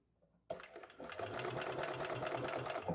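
Sewing machine running a line of top stitching on a custom white croc piece: a steady, fast mechanical whirring with a regular needle ticking, starting after a brief quiet and continuing close up.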